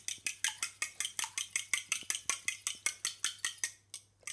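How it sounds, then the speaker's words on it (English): A whisk beats milk and egg in a bowl for scone dough, fast even strokes of about five per second, each a crisp tapping swish, close and clear, trailing off near the end with no talk. "and then you whisk it"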